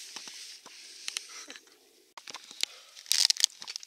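Potato chips, original, chicken and barbecue flavours, crunch in bursts while being eaten on a camping trip, sharp close crackles scattered across the moment with quiet gaps between.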